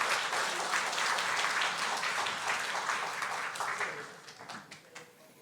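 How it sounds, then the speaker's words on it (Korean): A church congregation applauds an award winner at a children's department ceremony, a moderately loud burst of clapping that gradually thins out and fades toward the end. "박수 쳐주십시오."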